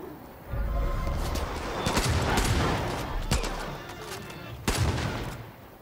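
Flak cannon fire in Far Cry 5: loud, booming blasts repeat in bursts over a rumbling, crackling battle din, with a sharp, heavy shot standing out near the end.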